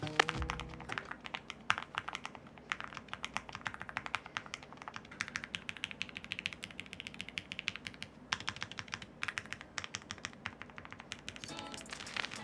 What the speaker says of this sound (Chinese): 那接下来我们就来听听看 Magic Q 的原厂打字音表现吧